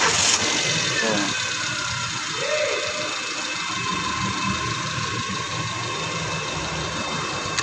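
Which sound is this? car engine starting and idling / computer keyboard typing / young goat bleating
car engine starting and idling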